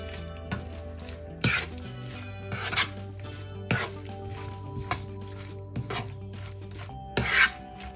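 Kimchi ingredients, cabbage with half a lemon's juice, being mixed by hand in a bowl, giving irregular close rubbing, squishing and scraping bursts separated by short quieter gaps, with no talking.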